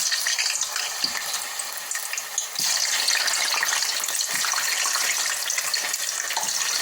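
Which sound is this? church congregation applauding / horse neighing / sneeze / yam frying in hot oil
yam frying in hot oil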